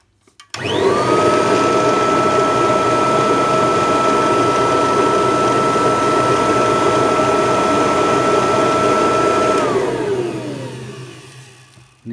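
An old vintage vacuum cleaner motor switched on, spinning up quickly into a loud, steady whining drone with a strong tonal hum, then running down and fading as it is turned off.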